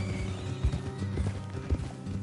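Horse hooves clip-clopping in a video game, a steady close rhythm of hoofbeats on a road with a couple of louder thuds, a horse whinnying in the mix and no talk over it.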